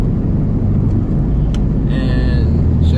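A Nissan 240SX S14 drives along the road, its engine droning loudly inside the cabin with a steady low rumble, and a faint whine comes through during gear changes.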